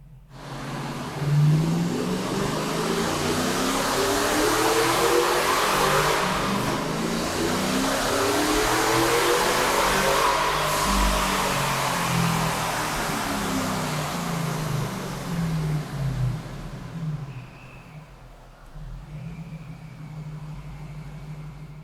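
A supercharged Chevrolet Tahoe engine runs on a dyno, climbing in a long loud rev with a rising whine, holding near full power before dropping off into a lower idle.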